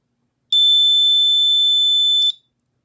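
A cigar tube circuit tester's buzzer on a breadboard prototype sounds one loud, steady high-pitched electronic tone lasting about two seconds, then cuts off sharply, with silence before and after.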